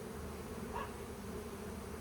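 Bees from a hive, including male bees, buzz in a steady, faint drone throughout, with one slightly louder buzz passing close about midway.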